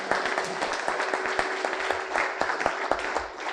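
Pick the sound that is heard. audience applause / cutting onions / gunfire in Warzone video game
audience applause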